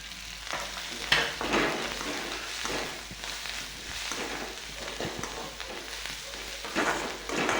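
Food frying and being stirred in hot oil in a pan, a steady close sizzle broken by scraping spoon strokes and a few louder stirring bursts, with no talking.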